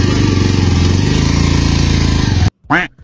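Engine of a newly bought black motorbike being ridden, a steady, loud buzzing drone that cuts off abruptly near the end, followed by a brief voice.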